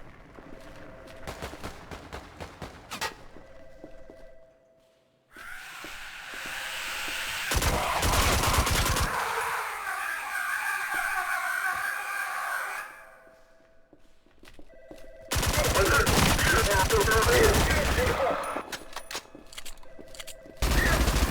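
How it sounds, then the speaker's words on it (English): Tactical combat rifle fire in the shooter game ADACA Zone Patrol, with bursts of rapid shots in separate loud volleys split by quieter gaps, close and dense. "Trying to save ammo on our tactical combat rifle because it is one of the best weapons in the game."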